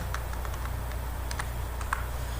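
A computer keyboard is typed on while writing bubble-sort code, with sparse, irregular light keystroke clicks over a quiet room hum and no talking.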